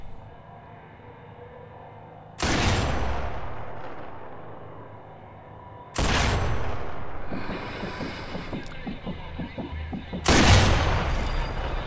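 In Sniper Elite 4, a sniper rifle fires three loud, booming shots spaced a few seconds apart, each followed by a long rolling echo across an open battlefield.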